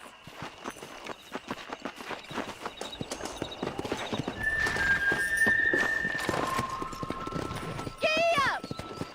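Horses ridden in the video game Red Dead Redemption, with steady clip-clop hoofbeats running throughout and a loud whinny near the end, set against game music and background voices.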